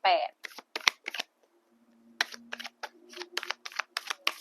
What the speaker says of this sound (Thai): เสียสมาธิก็เลยสับไพ่นานขึ้นนะ